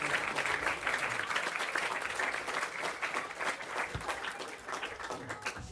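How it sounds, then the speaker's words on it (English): A lecture audience claps together in steady, dense applause that holds at an even level for several seconds, heard from a moderate distance. "So let's give a round of applause"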